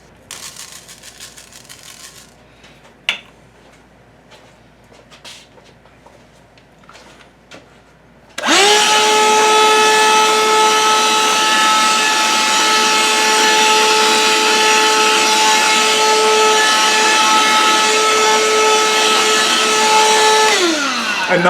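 Ridgid 18-volt handheld cordless vacuum picking up cat litter from a smooth surface: a few faint clicks and knocks, then the motor switches on into a loud, steady high whine that runs unbroken to the end.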